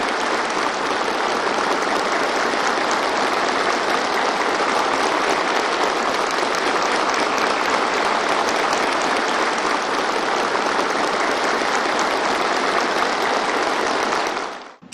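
Warm, sustained applause from a large gathering of troops at the Macau garrison, dense and even for nearly fifteen seconds before cutting off abruptly.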